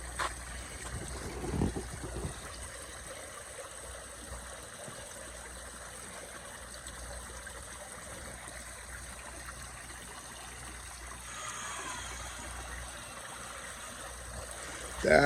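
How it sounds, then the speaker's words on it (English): A custom concrete water fountain runs on a homestead, giving a steady, soft trickle and stream of water at moderate distance, with faint wind and brief low thumps early on. "This is with the water fountain running."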